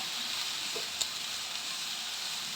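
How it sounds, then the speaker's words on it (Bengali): Ridge gourd (nenuya) fries in a pan while being stirred, giving a steady, soft sizzling hiss broken by one light clink partway through. "নেনুয়াগুলো দিয়ে একটু নাড়াচাড়া করতে হবে।"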